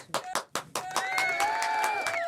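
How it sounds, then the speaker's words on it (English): A round of applause on a hip-hop talk show: a few separate, sharp claps ring out close by, then a sustained tonal whine rises over continued light patter. "Round of applause to Fivio."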